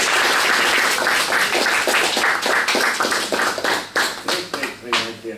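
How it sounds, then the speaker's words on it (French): Seminar audience breaks into sustained applause, dense overlapping hand claps that thin out toward the end into a few scattered final claps, with a voice emerging as it dies down. "On t'applaudit."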